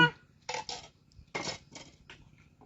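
Plates and dishes clatter quietly nearby at a meal: a handful of separate clinks and knocks of crockery and utensils spread across a couple of seconds, with no talking.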